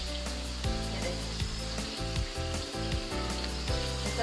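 Peshawari chapli kebabs frying in a pan, a steady sizzle under a constant low hum, with a few soft scraping touches close by.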